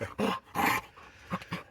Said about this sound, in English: you lunatic dog